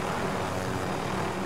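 An airplane engine in the video game Call of Duty: Modern Warfare, a steady loud droning hum with no pauses, heard alone.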